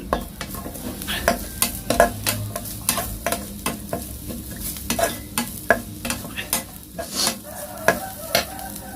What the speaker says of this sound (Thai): แล้วเราก็ทำการผัดครับ